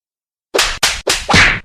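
Four sharp slap sound effects crack in quick succession after a moment of silence, the last one heavier and longer. They are loud and close, with no voices.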